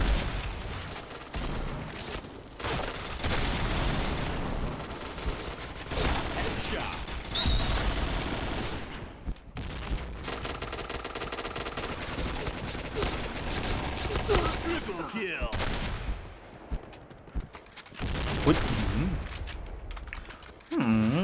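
Rapid bursts of gunfire from the first-person shooter video game Point Blank, crackling in repeated volleys with brief pauses throughout, mixed with game effects at moderate level.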